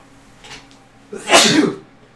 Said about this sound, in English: So I almost need to sneeze right now.